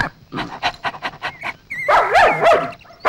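Dogs pant and let out short barks and whimpers close by in a comedy film scene, with a quick burst of uneven yelps and whines toward the end.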